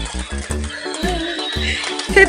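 A toy horse neighing, a loud mechanical whinny repeated in quick bursts with rhythmic clip-clop pulses and a jingly tune, heard close up.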